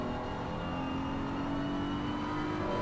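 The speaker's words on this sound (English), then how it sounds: "Let's actually hop on board with the Racing Sim Tools Esports" A BMW race car engine in a sim racing endurance game, heard from the bonnet cam on the Hangar Straight, drones steadily and loudly with a sustained whirring tone and a gradual rise in pitch, with no talk over it.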